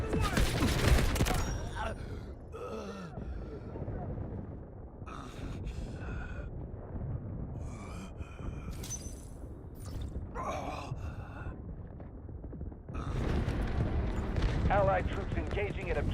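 Artillery barrage explosions in the video game Delta Force: heavy booming blasts and rumbling impacts that come in bursts over a continuous roar, with game voices heard between them.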